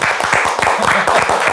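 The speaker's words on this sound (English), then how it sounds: "We get a hand clap for that." Loud, close hand clapping from a small group during a podcast interview, rapid individual claps with a steady rhythm running for the whole short stretch.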